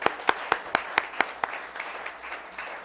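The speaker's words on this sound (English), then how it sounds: "We'll give Supervisors Hoffman, Swade, and Geimer, who are here tonight, once again a round of applause." A round of applause for retiring supervisors at a county board meeting, sharp distinct claps from a small group that start crisp and fade into a softer, thinning patter.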